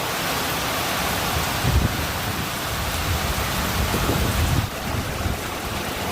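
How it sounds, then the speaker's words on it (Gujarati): A heavy, continuous rush of rain fills the air, with low rumbles rising briefly in the background like distant thunder. "ચાલો તમને વરસાદ કેવો પડે એ બતાવો"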